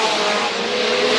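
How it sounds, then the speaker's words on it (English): Midget race cars roar around the track at full speed during a 25-lap Southern States Midget Series feature at Screven Motorsport, a loud continuous engine drone with a high whining tone and no voices. "The midgets at full speed, 30 plus, looking good for 25 laps."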